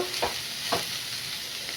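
Bitter gourd pieces sizzling as they fry in a pan, a steady close hiss with two soft stirring scrapes, no voices.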